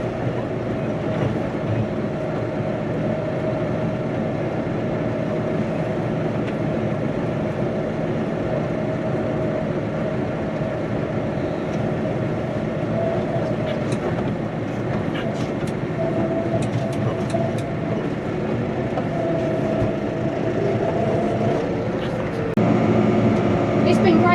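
A New Holland T5 140 tractor drives along with a steady, continuous engine drone and a rattling, bouncy running rumble that stays loud and close throughout, with no speech over it.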